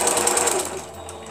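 A sewing machine runs steadily while winding a plastic bobbin, a close, continuous whirring hum that eases slightly toward the end.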